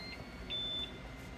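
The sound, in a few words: MakerBot Sketch Large 3D printer beeping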